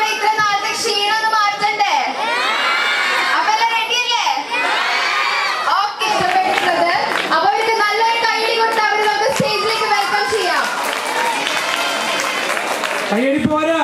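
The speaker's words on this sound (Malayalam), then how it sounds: "കയ്യടി പോരാ." A college event audience at an engineering school cheers, shouts and claps in a loud, sustained roar, with children's voices prominent throughout the crowd noise.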